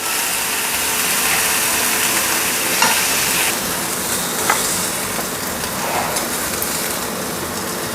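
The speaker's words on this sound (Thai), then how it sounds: "ลองย่างให้ดูว่ามันจะเป็นยังไง" Marinated pork for mookata grills with a loud, steady sizzle, punctuated by a couple of brief crackles and clicks.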